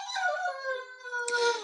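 A young German shepherd, about ten or eleven months old, whines in long, high, wavering tones that rise and fall continuously, fairly close and clear, with no talk over it.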